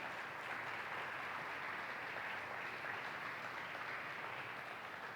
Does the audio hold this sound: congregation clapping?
yes